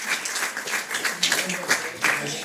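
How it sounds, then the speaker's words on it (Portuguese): A church gathering audience applauds, a dense wash of clapping with voices mixed in, close and fairly steady for a couple of seconds. "Agora uma salva de palmas à Nicole, está ali a servir tão bem."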